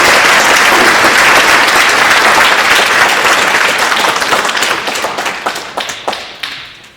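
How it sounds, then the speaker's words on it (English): Audience at a speech competition finals applauding the judges: dense, loud sustained clapping from a crowd that gradually thins into scattered individual claps and fades out. "Let's give them a round of applause."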